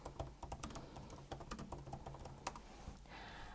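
Rapid, uneven typing on a computer keyboard, close-up key clicks in quick bursts with a brief pause near the end, no voices.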